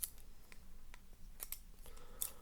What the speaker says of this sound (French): On commence par les ciseaux d'abord.